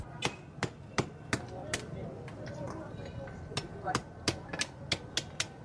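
Sharp, repeated hard knocks of spider conch shells being pounded, irregular in rhythm, with chatter and market bustle in the background.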